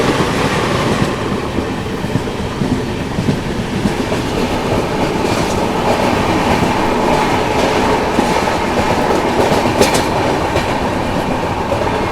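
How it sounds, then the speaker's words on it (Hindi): Karnataka Sampark Kranti Express passing on the Indian railway, a loud, continuous rumble of wagons with rhythmic wheel clatter and occasional squeal, heard close and steady throughout. "कर्नाटका संपर्क क्रांति एक्सप्रेस।"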